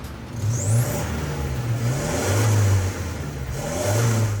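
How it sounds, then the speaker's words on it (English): A 4x4 vehicle's engine with standard exhaust revs up and down in several surges, a steady mid-low exhaust drone rising and falling, close and loud with no talking. "So that's the standard exhaust pipe."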